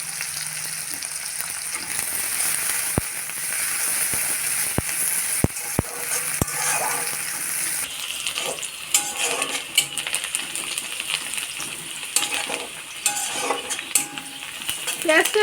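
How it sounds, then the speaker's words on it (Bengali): Chopped onion, garlic, cardamom, cinnamon and cloves frying in oil for banana-flower muri ghonto, a steady sizzle broken by several sharp metallic clinks from a utensil against the pan, then a denser crackling fry. "পেঁয়াজটা লাল লাল করে ভেজে নিব।"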